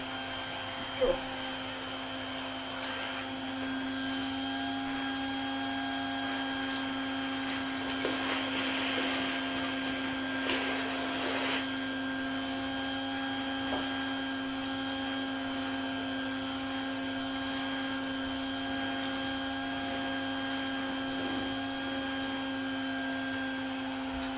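A 1980 Spinney U62 budget vacuum cleaner runs steadily with a loud, constant motor whine and airflow hiss, punctuated by brief bumps and scraping of the floor head.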